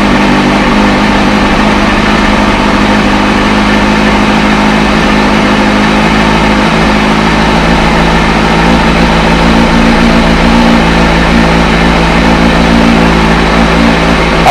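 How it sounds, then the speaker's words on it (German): A Kawasaki race motorcycle engine runs steadily throughout, a loud continuous idle with a dense mechanical drone and no speech. "Also starten Sie das Motorrad."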